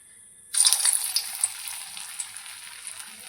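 Potato balls for crispy snacks drop into hot oil and burst into a loud, bright sizzle that slowly settles into steady frying bubbles, close and alone.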